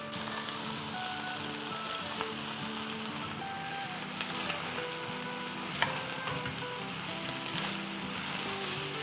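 Noodles tipped into a pan of frying chicken and vegetables, a steady crackling sizzle with occasional clinks and stirring scrapes, continuous throughout, no talking.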